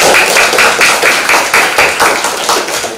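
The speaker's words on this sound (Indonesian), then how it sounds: "berikan tepuk tangan untuk kelompok" A classroom of students claps for a presenting group after a talk on wood carving patterns, rhythmic unified clapping in steady beats, loud and close, with no talk over it.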